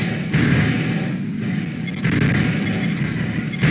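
An energy shotgun fires in Armored Core Last Raven in dense, booming bursts over a rumbling background. The blasts are loud and sustained, with short breaks between them.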